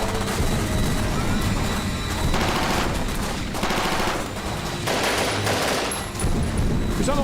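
Rapid bursts of laser blasts and crashing impacts from a sci-fi alien invasion battle ring out loud and dense, with sharp electronic zaps layered over continuous rumbling combat noise.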